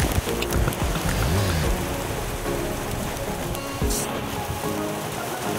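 Heavy rain from Typhoon Opong pours steadily on surfaces nearby, a dense, loud, continuous patter with no letup. No one speaks.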